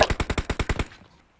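A short automatic burst in PUBG: about eight sharp, evenly spaced shots fired in quick succession, close and loud, then a brief fading tail into quiet.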